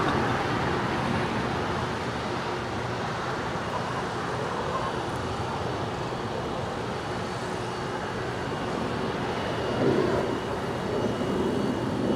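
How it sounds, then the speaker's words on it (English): A Dassault Falcon 900EX jet touches down on LAX's north-side runway, giving a broad, steady roar that swells slightly near the end, with distant traffic-like rumble underneath. "That is a Dassault Falcon 900EX. Landed on the north side."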